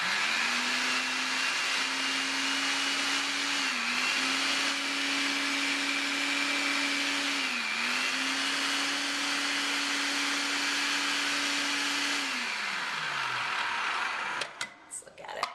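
A blender whirs steadily at high speed through raw almond paté mixture, dipping briefly twice as the load shifts, then winding down near the end, loud and close.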